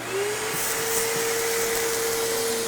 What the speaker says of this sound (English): I'm going to use the vacuum cleaner.